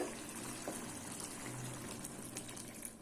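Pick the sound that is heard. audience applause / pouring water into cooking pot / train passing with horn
pouring water into cooking pot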